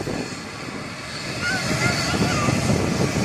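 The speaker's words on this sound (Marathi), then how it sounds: "आपण विस्ताराची आता आपण टेक ऑफ बघूया" A Vistara airliner takes off at an airport, heard from a nearby hillside viewpoint as a loud, broad engine roar that swells slightly over the seconds, with a voice talking over it.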